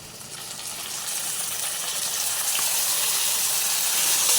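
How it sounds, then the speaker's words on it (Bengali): Garlic paste frying in oil in a pan for a potato, long bean and jackfruit seed curry gives a dense, steady hiss that slowly grows louder, close and unbroken, with no voices. "তো রসুনটাকে ভালোভাবে ভেজে নেবো তেলের সাথে"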